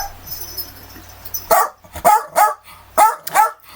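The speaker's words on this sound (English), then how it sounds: "Oh, I think you can hear my dog barking." A dog barks in a run of sharp, loud yelps starting midway, about five or six barks in an uneven rhythm, close by, with a quiet room before it.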